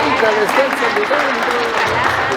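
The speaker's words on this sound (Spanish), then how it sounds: "Fuerte los aplausos para Jacqueline" At a 50th birthday celebration, guests applaud for Jacqueline in a loud, continuous patter of many hands, with voices mixed in and a tune playing faintly underneath.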